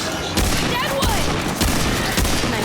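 Loud, dense gunfire from the Remnant 2 video game on PlayStation 5, with repeated sharp shots in quick bursts under faint talk.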